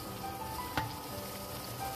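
Piyaju onion fritters fry in hot oil as they are turned, giving a steady close sizzle with one small tap or pop partway through and no voices.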